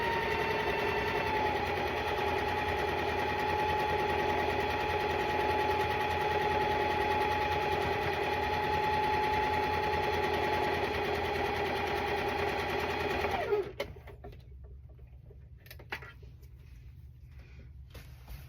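A sewing machine runs steadily, stitching quilt fabric for a Halloween and cat quilt block, a continuous close motor hum that stops abruptly near the end and leaves only faint room noise.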